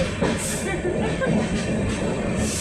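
A train rumbles at a railway station during the Ganesh festival journey in Konkan, a dense, steady roar of wheels and carriage noise heard close, with crowd chatter mixed in.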